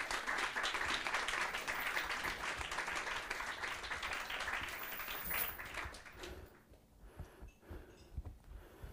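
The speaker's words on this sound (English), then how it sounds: "Let's give him another round of applause." An audience at a live poetry event in Ukraine breaks into sustained applause that stays dense for about six seconds, then thins into scattered claps as it fades.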